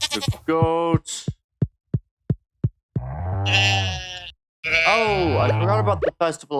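Goats bleating in the Stardew Valley farming game: short bleats, a run of sharp ticks, then two longer wavering bleats, loud and close, with no voices.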